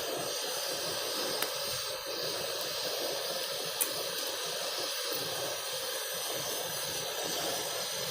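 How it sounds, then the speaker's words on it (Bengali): Water runs steadily from a tap as an eggplant is rinsed in a kitchen, giving a faint, continuous hiss and splash with a couple of small knocks. "বেগুনটা প্রথমে একটু জল দিয়ে ধুয়ে নিচ্ছি।"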